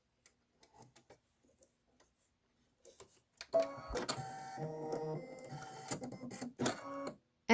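An embroidery machine loaded with white thread stitches a placement line, starting after a few quiet ticks into a rapid, rhythmic mechanical chatter up close.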